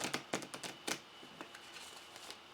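Playing cards are shuffled at a tabletop game session, a few quick faint riffling bursts near the start that then trail off to quiet.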